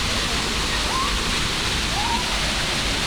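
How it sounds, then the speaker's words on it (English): A waterfall in a zoo bear habitat pours with a steady, broad rushing roar, constant and close throughout, with a couple of faint high chirps above the wash. "You see they got waterfall."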